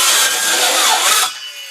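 A saw cuts through a wooden grow bed, with a loud, close rasping burst lasting about a second before the noise drops away.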